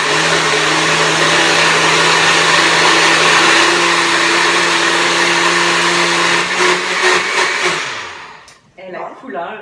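A blender whirs at high speed through a cocoa powder smoothie, a loud steady motor drone with a low hum that holds for about eight seconds, then winds down and cuts off near the end.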